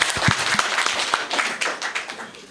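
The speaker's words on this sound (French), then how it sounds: "Applaudissez le président." Audience in a meeting hall of coffee-cocoa sector leaders applauding their president, a short burst of scattered, uneven claps from a modest crowd, fairly close, with a few louder individual hand claps standing out.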